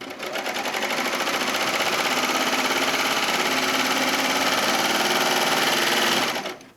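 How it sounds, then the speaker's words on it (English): A sewing machine stitches an apron panel in one continuous fast rhythmic run of needle clatter and motor hum, close and steady for about six seconds before stopping abruptly. "I'm going to sew off and then sew back on again at the appropriate angle"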